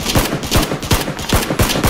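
Rapid, loud automatic gunfire from a PUBG match rattles close by in a steady rhythm of sharp, punchy shots, about three or four per second, with no talk.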